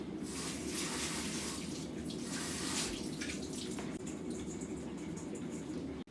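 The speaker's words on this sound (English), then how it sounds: "I shall be having the water run through them." Tap water runs steadily over sweet tomatoes being washed in a kitchen, a continuous close splashing hiss that carries on without pause and then cuts off abruptly at the end.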